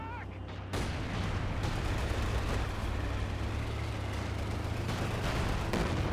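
An artillery barrage in Company of Heroes 2 gives a loud, continuous rumble of blasts and heavy fire from near start to end. A voice briefly comes through before it, and the shelling then holds steady at full level.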